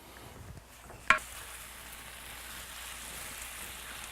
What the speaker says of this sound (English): we'll go ahead and saute those up until they're nice and brown